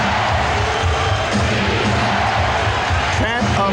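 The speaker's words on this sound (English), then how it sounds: "Chant of defense from the crowd." Crowd at an NBA Finals 1996 Game 5 Bulls versus SuperSonics basketball game chanting defense, a loud rhythmic roar of massed voices filling the arena under a commentator's talk.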